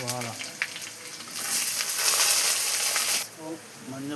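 Onion frying in oil after mustard seeds and curry leaves, giving a loud steady sizzle that swells for about two seconds, with a voice talking briefly before and after.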